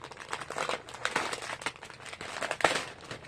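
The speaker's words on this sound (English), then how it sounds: "Crinkling." Fabric packaging around a 16 count Aida cross-stitch cloth in Riverbank colorway crinkles up close, a run of crackly plastic rustles with sharper snaps near the end and no talk.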